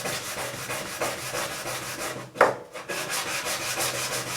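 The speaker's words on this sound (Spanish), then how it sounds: "sé que toda la pieza está lijada con la 180" A flat wooden piece is sanded by hand with 180-grit sandpaper, giving a steady, close scratchy rubbing with a brief pause midway before the strokes resume.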